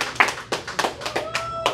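Hands clapping in a handful of sharp, slightly uneven claps, close by and alone, after someone finishes an oversized burrito eating challenge at a restaurant.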